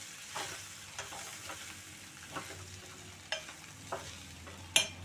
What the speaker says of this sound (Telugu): ఈ స్టేజ్లో లో ఫ్లేమ్లో పెట్టుకొని బాగా కలుపుకోవాలండి